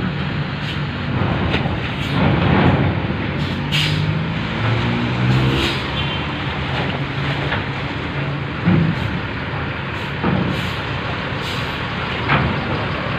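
A Mercedes-Benz OH 1526 bus rolls off a ferry at Merak port, its engine droning loud and close with a low rumble and rising revs as it pulls away amid clanking harbour noise.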